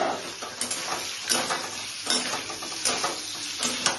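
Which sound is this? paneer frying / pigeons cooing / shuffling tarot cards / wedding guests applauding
paneer frying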